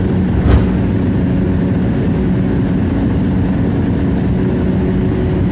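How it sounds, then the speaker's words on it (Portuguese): Propeller drone of a Cessna 208 Caravan taking off from Jacobina airport in Brazil, a loud, steady low rumble with a constant tone that fills the whole stretch without letup. "de onde estamos decolando a bordo do Cessna 208 Caravan, com destino à cidade de Salvador"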